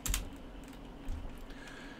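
A few light clicks of typing on a computer keyboard come through quietly over a steady low hum, short and sparse rather than a continuous run of keystrokes.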